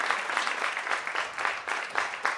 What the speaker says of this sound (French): On l'applaudit bien fort, Serge Gremion